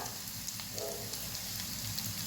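Chopped onions and curry leaves sautéing lightly in oil in a pan: a soft, continuous sizzle, fairly quiet and steady throughout, with no talking.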